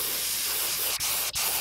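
Airbrush spraying paint onto a handmade lipless jerkbait fishing lure, a close, steady hiss broken by two very brief interruptions.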